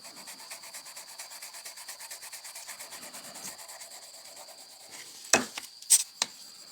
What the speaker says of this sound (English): we'll wipe off the excess